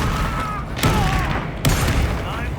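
An Incendio fire spell is cast in the video game Hogwarts Legacy, giving two sharp, loud bursts of flaring fire over a busy combat backdrop.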